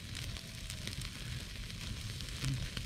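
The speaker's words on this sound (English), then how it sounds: "I like the sound of the sizzle." Food sizzling in a pan outdoors in the desert early in the morning, a steady close hiss of crackling fat that carries on without a break, with no voices over it.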